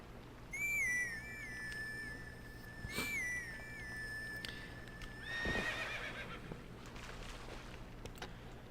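Epona the horse in The Legend of Zelda: Twilight Princess HD video game neighs twice, with a long, clear whinny early on and another midway, over faint hoofbeats and game ambience.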